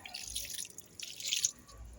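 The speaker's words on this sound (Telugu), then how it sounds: "మళ్ళీ కొంచెం వాటర్ పోసి" Water is poured over small fish as they are washed by hand, giving faint, soft dripping and light splashing in short bursts.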